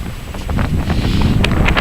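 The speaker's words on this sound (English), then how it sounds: "It's a bit windy." Steady wind buffeting the microphone with a low rumbling roar, gusting slightly louder partway through, with no voices; strong gusting wind, a bit windy.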